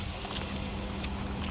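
Keys to an emptied Toronto apartment jangling as they are handed over, a few light metallic jingles over a steady low background hum, fairly faint, with no voices.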